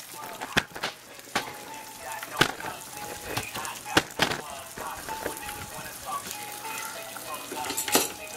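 An egg fries in a pan with a soft sizzle beneath repeated sharp clinks and scrapes of utensils, while a person talks over it.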